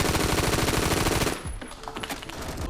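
A SCAR HAMR 9mm conversion fires in Phantom Forces, a rapid, loud, continuous automatic burst for over a second, then cutting off to quieter background game noise.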